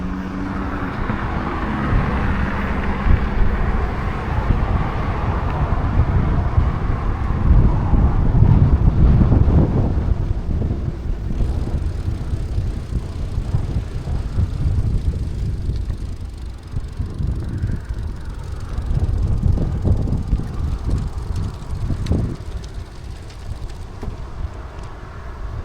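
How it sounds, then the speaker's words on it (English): Headwind buffeting the microphone on a bike ride between cemeteries near Richebourg, loud rumbling gusts that rise and fall continuously throughout, with no talk. "it is headwind."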